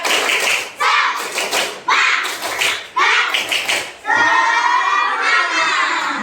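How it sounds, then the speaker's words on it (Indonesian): A school class claps in rhythmic bursts of quick, loud hand claps separated by short pauses, with children's voices shouting and chanting along, ending in a sustained burst of cheering voices. "Tepuk tangan untuk kalian semua"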